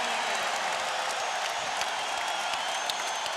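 A packed basketball arena crowd in Indiana at the NBA Finals roars in a dense, steady wash of cheering and applause, loud and continuous.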